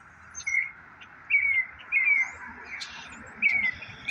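A voice imitates a robin's call: a few short, high, whistled chirps repeated at irregular intervals, fairly faint against a quiet background.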